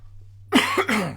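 Two quick, close coughs from one person, sharp and loud, following a moment of near silence.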